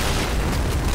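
A deep, sustained boom of a bomb explosion in the video game Point Blank, loud and rumbling throughout a single brief moment with no talk.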